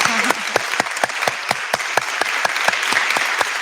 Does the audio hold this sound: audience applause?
yes